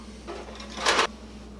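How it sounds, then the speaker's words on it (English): A roll-out pan rack drawer in a kitchen cabinet is pulled open, a short rolling slide that builds to a louder, brief scraping rush near the end before stopping. "grab a hold of the front of the drawer, pull it out"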